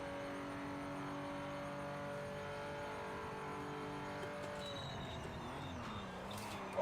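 Racing car engine in the video game Project Motor Racing, a sustained high engine whine holding steady, then shifting pitch as revs change, heard alone without talk.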